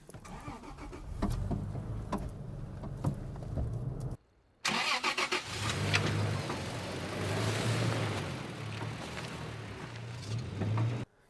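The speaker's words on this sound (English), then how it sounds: "be in first gear and just start it with the key" A manual car is started with the key while in first gear, so the starter motor cranks it forward; a loud rhythmic engine chug pauses briefly, then resumes and runs steadily with rough, noisy bursts.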